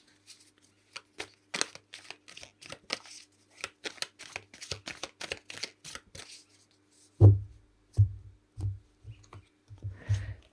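Tarot cards are shuffled by hand, a run of quick light riffling flicks and clicks followed by several heavier dull taps as the deck is squared, close and fairly quiet, no talking.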